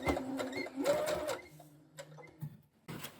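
A sewing machine stitching ric rac trim, with short bursts of fast mechanical whirring and clatter stopping and starting close up, and a brief low hum between runs.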